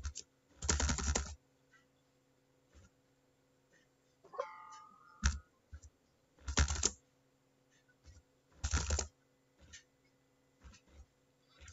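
Keystrokes on a computer keyboard while records are entered into a form in MS Access, coming in short bursts of rapid taps separated by pauses, close and fairly loud, with no talking.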